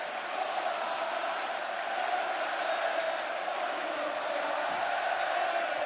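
A large football stadium crowd at a Barça versus Madrid match in 2010 keeps up a steady, dense roar of massed voices, likely singing, that continues evenly throughout with no clear breaks.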